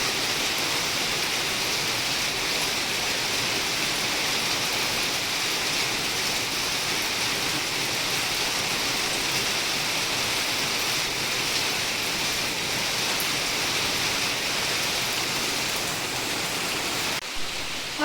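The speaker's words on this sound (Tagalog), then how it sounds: "Wala pa rin tigil ang ulan." Heavy rain falls steadily through a full day of downpour, a dense, unbroken hiss that stays even and loud throughout with no voices.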